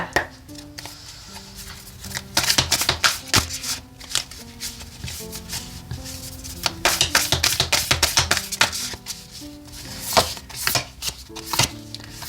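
Oracle cards being shuffled by hand during a tarot reading, a run of quick crisp riffling and tapping bursts, close and fairly loud, with soft music underneath and no talking.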